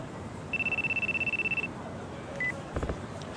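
A telephone rings in the video game Yakuza 2: one sustained electronic ring lasting about a second, then a brief chirp, over a steady low background with a couple of soft clicks after.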